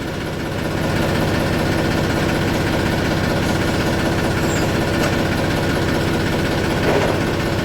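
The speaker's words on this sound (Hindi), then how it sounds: "तो बाहर निकाल लेते हैं ट्रैक्टर को।" A tractor engine runs at a steady, loud, close idle on a sugarcane farm, giving a continuous rumbling drone with slight vibration and no speech.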